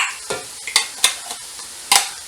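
Chili and garlic go into a pan for a lamb curry, giving several sharp bursts of sizzle and clatter as ingredients drop in, close and uneven, with quieter hissing between them.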